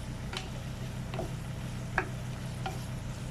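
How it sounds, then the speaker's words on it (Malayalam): Ginger and curry leaves stirred in a frying pan for prawn achar, a low steady sizzle with four soft scraping strokes of a spoon spaced evenly across a short stretch, close and quiet. "ഇഞ്ചിയും കറിവേപ്പിലയും നന്നായിട്ട് മിക്സ് ചെയ്ത് കൊടുക്കുക."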